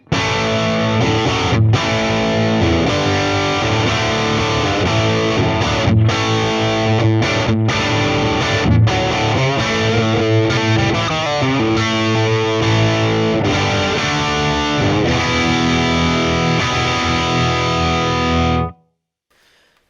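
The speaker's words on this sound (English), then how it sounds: "Kemper Kone Celestion Vintage 30 becomes available" Heavily distorted electric guitar through a Kemper Kone speaker using Celestion Vintage 30 emulation plays chords and riffs for nearly twenty seconds, thick and saturated, then cuts off abruptly into silence.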